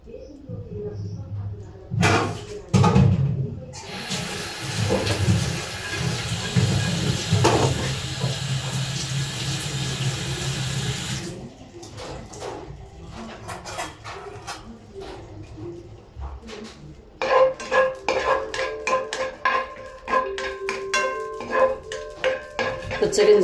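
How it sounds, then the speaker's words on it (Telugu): Dry fruits and melon seeds frying in hot ghee for payasam give a steady, bright hiss for several seconds. Clinks of utensils and a person talking come before and after it. "నెయ్యి వేసుకొని వేయించుకోవాలి"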